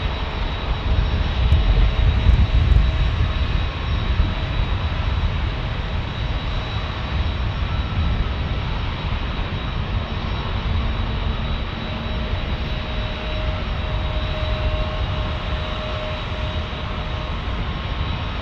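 An Alaska Airlines Embraer E-175 jet taxis onto the runway at San Diego airport, its engines giving a steady, loud whine and roar that holds throughout with no talking.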